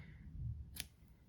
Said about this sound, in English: Then we're going to cut the yarn,